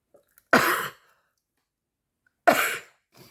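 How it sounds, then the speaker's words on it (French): A person with allergies sneezes twice, close and fairly loud, the bursts separated by a couple of seconds of quiet, with a faint breathy trace at the end. "je sens que je vais éternuer"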